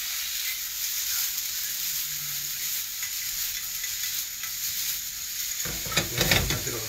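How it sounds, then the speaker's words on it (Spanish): Chopped frozen garlic browns in a hot pan, giving a steady, close hiss of sizzling with soft stirring scrapes and a louder burst of crackle toward the end. "Vamos a colocar también el ajo de una vez que estoy dorando ahí."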